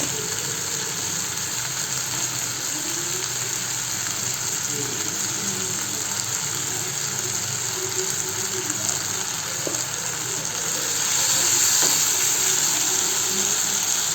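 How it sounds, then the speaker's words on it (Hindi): Potatoes and carrots fry in a pan with a steady, even sizzle and hiss that continues throughout and swells slightly louder near the end. No one speaks. "सब्जी सब फ्राई हो गया अच्छे से"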